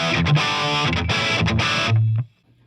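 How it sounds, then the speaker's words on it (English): An electric guitar played through an amp's gain channel with effects bypassed gives thick, distorted chords struck in a few loud bursts, then a sustained low note that cuts off to silence. "So what I'm going to play for you is just going to be the tone going through the amp"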